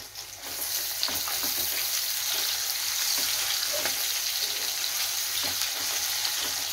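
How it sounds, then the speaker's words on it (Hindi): Potato pieces fry in hot oil in a pan for a yogurt potato curry, a close, even sizzling hiss with occasional soft stirring knocks, no talk. "आलू भी लगभग फ्राई हो चुका है।"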